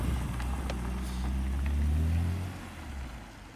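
Car engine fitted with an upgraded airbox, pulling in first gear through a notchy gearbox while driving, gives a steady, loud low rumble with rising and falling tone, heard from inside the car without talk.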